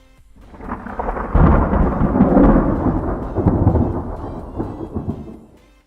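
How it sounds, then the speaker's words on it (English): Simulated thunderstorm weather from Active Sky in a flight simulator: a rolling thunder rumble swells and fades over about five seconds, loud and broad with a rain-like hiss beneath, no voices. "you will hear some thunder because my active sky is now starting"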